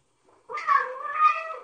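An angry, hungry cat gives a drawn-out meow, loud and close with no voices, after a brief faint sound, wavering in pitch over about a second.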